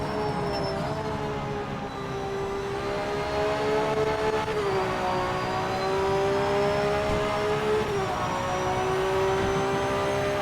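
Aston Martin Valkyrie race car engine in the Project Motor Racing sim, a steady loud high-pitched whine that rises and falls with throttle, dipping briefly around gear shifts, continuous with no talk.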